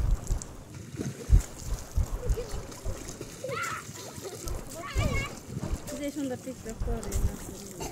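A child splashes in floodwater, irregular watery slaps and sloshes close by, mixed with people talking and a voice.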